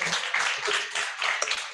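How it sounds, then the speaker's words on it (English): Lecture-hall audience at a public lecture giving a round of applause, with dense, uneven clapping that swells and dips over a couple of seconds while voices mingle in the background. "Please give me a round of applause."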